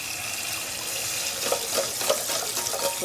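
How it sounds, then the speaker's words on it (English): Cold tap water pouring into a pot of freshly boiled eggs after the hot water is drained, a steady hissing splash near the sink with a few louder spattering bursts. "And then put cold water in."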